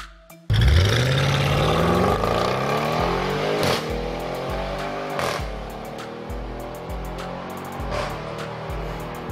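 An Audi RS6 with an automatic gearbox revs hard and climbs through the gears, its exhaust cracking with sharp pops and farts at each shift, loud and close throughout.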